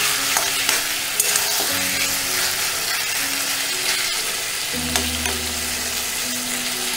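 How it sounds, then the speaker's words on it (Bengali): Ginger paste being stirred into a frying dish for a Bangladeshi-style non-vegetarian shukto: steady close sizzling with intermittent scrapes and clinks of a spatula against the pan, and no voices. "আদা বাটা দিয়ে আরেকটু নাড়াচাড়া করে দেব"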